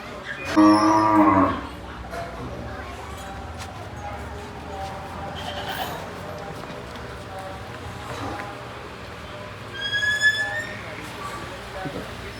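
Two loud moos from cows and buffaloes, one early and one later, over a noisy farmyard background with people talking.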